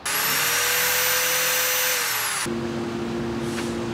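A power drill running off a battery power bank whirs steadily at high speed, then its pitch drops abruptly as it slows into a lower, steady running hum.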